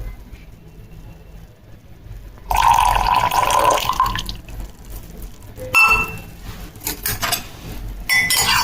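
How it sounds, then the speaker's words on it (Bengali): Hot milk poured into black tea for a jaggery tea makes two splashy liquid bursts with a few utensil clinks, close and fairly loud after a quiet opening, with no talking. "এই যে গরম দুধ অ্যাড করে নিচ্ছি এটাতে।"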